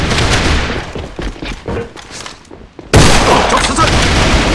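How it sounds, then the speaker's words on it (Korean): Gunfire and a booming grenade blast in the online shooter A.V.A, with loud bursts of shots, a brief lull, then a sudden heavy explosion followed by sustained rumbling noise. "수류탄 투척!"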